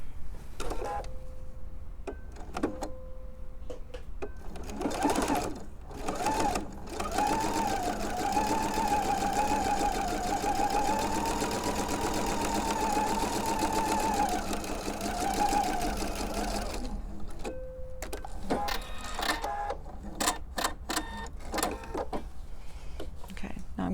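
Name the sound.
sewing machine stitching quarter-inch seams on half square triangle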